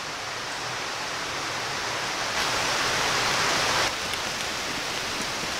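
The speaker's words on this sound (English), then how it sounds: "It's starting to rain again, of course," Steady outdoor rain falls as an even, continuous hiss that swells slightly midway and then settles, with no voices.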